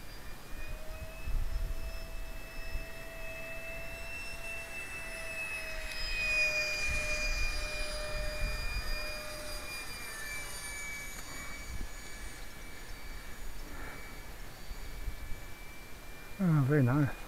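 A high-pitched model jet engine whines steadily with rising and falling pitch, voices talking over it and outdoor background noise throughout.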